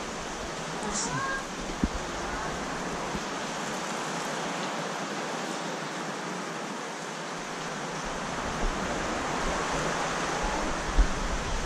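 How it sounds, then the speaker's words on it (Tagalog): Heavy rain pours steadily during Tropical Storm Maring in the Philippines, a dense, loud, unbroken roar of water with a few brief knocks near the start and end. "Malakas yung ulan"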